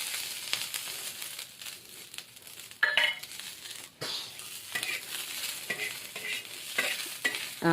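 Chavalike beans being stirred and fried in oil in a pan, a close crackling sizzle with repeated scraping strokes of a spoon against the pan, sounding alone without talk.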